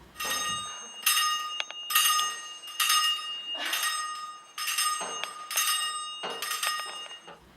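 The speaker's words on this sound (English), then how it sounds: "you start off by ringing the gong" A metallic gong struck about seven times at a steady pace, each ring shimmering and fading before the next hit.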